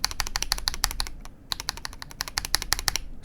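Fast, steady typing on an Asus ROG Azoth mechanical keyboard fitted with ASA keycaps, dense clacky keystrokes close up with a brief pause midway, no voices.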